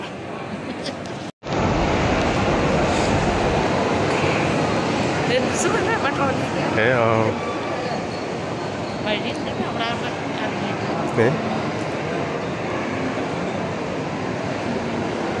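A Kochi Metro train carries passengers in a continuous loud rumbling roar, with rail and motor noise holding steady after a brief cutout near the start and occasional faint squeals and shifts in the drone.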